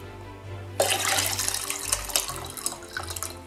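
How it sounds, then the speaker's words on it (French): Lemon juice being poured from a container into water for homemade lemonade, a short splashing gush that starts abruptly and trickles on for a few seconds, close and fairly loud. "nous allons verser leur jus dans l'eau"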